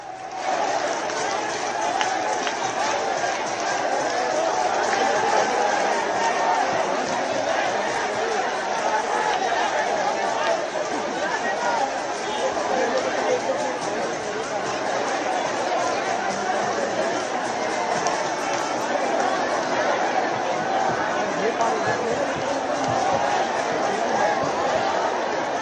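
Large crowd outside Rajiv Chowk metro station: a dense, steady roar of many overlapping voices and chatter, continuous and loud throughout.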